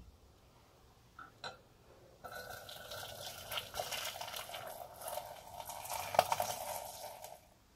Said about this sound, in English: I'm going to strain out the leaves using this sieve into another bowl